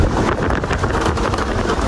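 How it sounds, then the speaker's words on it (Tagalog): Wind blowing strongly outdoors in a tribal mountain area, a continuous rushing buffet across the microphone for two seconds, loud and close, with no talking. "grabe, sarap yung simoy ng hangin dito"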